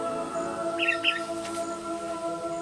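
A hooded parrot in scorched northern Australian grassland gives a short pair of chirping calls against a steady background hum, moderately distant and fairly faint.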